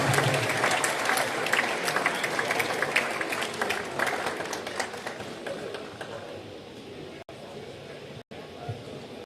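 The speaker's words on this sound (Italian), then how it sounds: "Ancora un bel applauso per Sinergi Volley." A crowd at a volleyball match ceremony applauds the Synergy Volley team, loud dense clapping that gradually thins and fades, leaving quieter room noise with scattered claps and a few brief dropouts.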